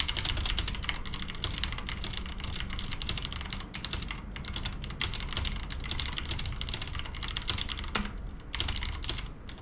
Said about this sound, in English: even though you are knocking on the table or just typing on your keyboard